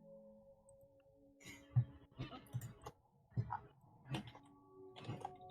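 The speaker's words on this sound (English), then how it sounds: "I can hear someone typing" Light keyboard typing clicks in an irregular run, faint and a little distant, with scattered louder taps and low background voices during a tabletop role-playing session.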